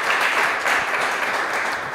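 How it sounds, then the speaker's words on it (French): A studio audience at a quiz contest applauds a contestant, a full, continuous burst of clapping that holds steady and fairly loud for about two seconds. "Est-ce qu'on peut l'applaudir,"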